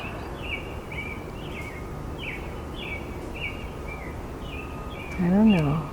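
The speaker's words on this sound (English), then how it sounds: "And just think about these birds." Several birds call back and forth in a repeated series of short chirps and whistles over a steady hiss of ambient background, with a louder warbling call rising near the end.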